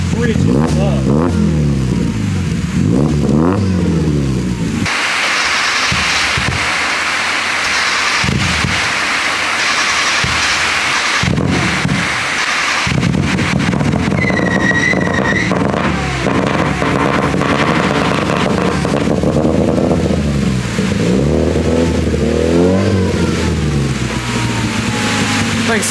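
A cheaply supercharged Mazda Miata engine revs loudly and repeatedly, rising and falling in pitch with a droning roar and a whine, close by, with people talking over it throughout.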